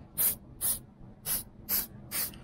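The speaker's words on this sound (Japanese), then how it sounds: "効率がいいようにこのアルテコスプレーで" Alteco spray activator hisses onto a superglued artificial turf joint in five short, evenly spaced bursts, loud and close with nothing else heard.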